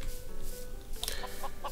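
A chicken in the Minecraft video game gives several short, clipped clucks near the end, following a steadier stretch of game background sound, with no talking.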